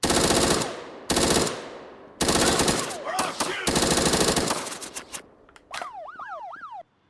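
AK rifle at level 4 in the YN Simulator video game fires several loud, dense bursts of automatic gunfire with brief gaps, followed by a wailing police-style siren near the end.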